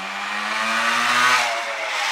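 A Yamaha TZR 125 two-stroke motorcycle pulls away, its engine note rising in a steady, loud buzzing rev held close throughout the short stretch.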